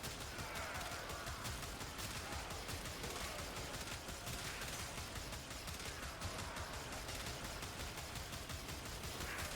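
Akmagnus Prime pistols fire continuously in Warframe on a Steel Path mission. The shots come as a dense, rapid string of cracks with no pauses, quiet overall and steady throughout. No one speaks.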